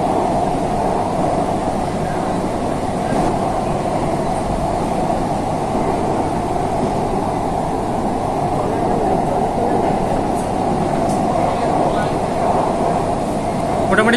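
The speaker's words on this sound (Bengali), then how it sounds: "এই তো গাইস গঙ্গার ভিতর দিয়ে এখন এন্ট্রি নিল আমাদের ট্রেন।" Kolkata metro train running through the underwater tunnel beneath the Ganges, heard from inside as a loud, steady, unbroken rumble and roar that fills the whole stretch.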